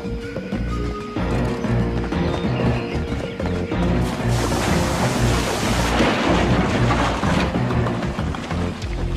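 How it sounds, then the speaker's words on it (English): A thunderstorm with heavy rain: a constant roar of downpour under deep rolling thunder, with a sharper, brighter crack about halfway through, loud and close, no voices. "Expect winds up to 130 kilometers per hour and heavy rainfall."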